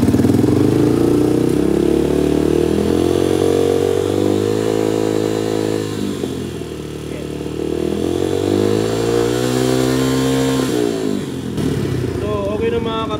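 Idling motorcycle engine with a nearly flat battery, revved repeatedly so the throttle rises and falls in steady swells, loud and close, with someone talking over it.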